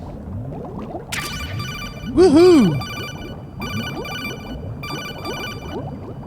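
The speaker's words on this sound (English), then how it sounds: "I'm ignoring that phone call." A codec-style phone call ringing in the video game Metal Gear Solid 2: Sons of Liberty, a shrill electronic ring repeating in bursts over game sounds, with a man briefly whooping partway through.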